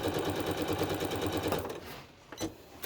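A sewing machine stitches through pinned fabric with a fast, steady mechanical whir and needle chatter, then stops, leaving a quiet pause with a couple of light clicks, close and loud with no talking.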